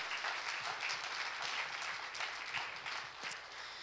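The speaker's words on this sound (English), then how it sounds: "Let's give another round of applause for the fantastic presentations we had today." Sustained audience applause at a presentation event fills the whole span, a steady dense patter of many hands clapping at moderate volume with no voices on top.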